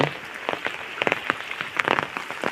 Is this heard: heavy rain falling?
yes